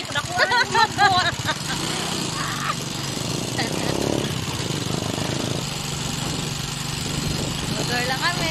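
A motorcycle engine runs close by with a steady buzzing drone, under people chatting and calling out at a busy roadside.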